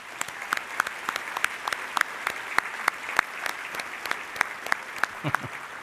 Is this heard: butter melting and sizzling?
no